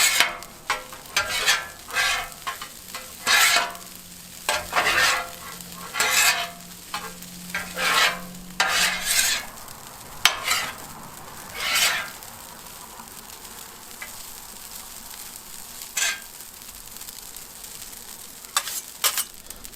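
Fried rice sizzling on a Blackstone griddle as sauce is worked in, with repeated sharp scraping and stirring strokes of a spatula over a steady frying hiss, loud and close, easing to quieter sizzle later.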